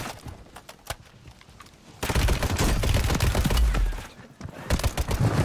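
Gunfire from a Call of Duty Warzone match on Rebirth Island, using a weapon fitted with a conversion kit: scattered lighter shots at first, then a loud sustained automatic burst lasting about two seconds, a brief lull, and another short burst.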